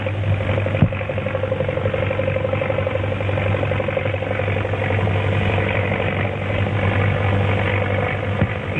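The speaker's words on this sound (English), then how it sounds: "The plane's in trouble. He's going to make a forced landing." A propeller plane coming down for a forced landing, its engine a steady mid-pitched drone with a low hum, fairly distant and even, with no voices.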